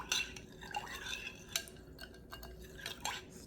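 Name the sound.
stirring yeast with sugar and warm water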